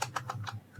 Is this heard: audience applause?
no